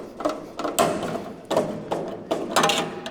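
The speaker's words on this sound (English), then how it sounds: "breaking these spot welds off." Spot welds being broken off the body panel of a Maserati Mistral during restoration: a series of sharp metallic cracks and clunks, close by, coming in irregular bursts with pauses between them, and no one speaking.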